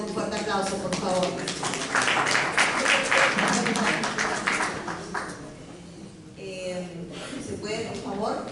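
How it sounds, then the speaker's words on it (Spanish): Applause at a ceremony welcoming a writer and poet to the head table, steady clapping of a modest crowd that swells, fades briefly, then returns, with a speaking voice running over it. "Démosle bienvenida con un fuerte aplauso, por favor."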